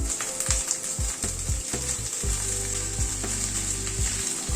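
Fish added to a pan of hot oil with ginger and green chilli, frying in a loud, continuous sizzle with scraping and stirring clatter throughout.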